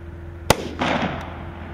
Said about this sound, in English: Then firing a rifle at different distances and different positions, including at moving targets.